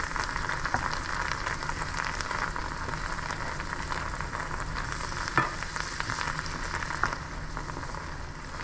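Butter and lettuce fry in a pan, a steady close sizzle and crackle running throughout with a few stirring clicks, and no voices over it.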